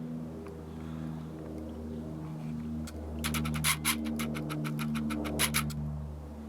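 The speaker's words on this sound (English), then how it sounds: "So you can see it's a 3-cylinder Kubota, 120, 220 volt generator on the back" A 3-cylinder Kubota 120/220 volt generator mounted at the back of a Prevost H3-45 bus conversion hums with a steady low drone, joined midway by a burst of rapid high clicking or rattling.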